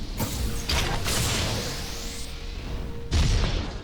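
A missile launched from a spaceship in the game Holy Potatoes We're in Space: a mechanical creaking whir rising in a sweep, then a heavier thudding impact near the end.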